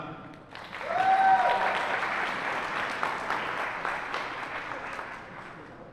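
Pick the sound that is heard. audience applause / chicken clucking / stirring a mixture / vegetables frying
audience applause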